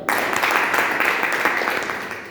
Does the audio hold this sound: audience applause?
yes